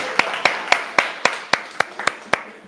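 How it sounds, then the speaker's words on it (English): A small audience gives Paula a round of applause at a music session, sounding as a series of about ten sharp, evenly spaced claps, fairly close and loud. "Big round of applause for Paula."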